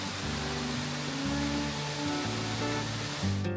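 Steady rushing water from a waterfall at the end of a short hike in Kananaskis in the Canadian Rockies, a continuous broadband roar with sustained musical chords layered over it.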